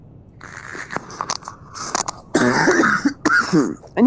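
Several close, loud coughs and throat clearing come from a gamer playing Starbound, in short bursts mixed with rustling and crunchy noises.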